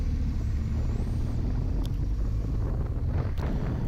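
A vehicle rolling along gravel on Yellow Schoolhouse Road out in farm country, a steady low rumble and crunch with heavy wind buffeting the microphone and a couple of faint clicks, no voices.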